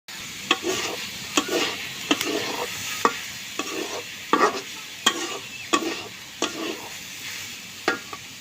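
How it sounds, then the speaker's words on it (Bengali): Vegetable frying in a little oil in a pan, with a steady sizzle under a series of sharp spatula scrapes and stirs roughly every half second to a second, close and alone with no talking. "এখন ভেজে নিম"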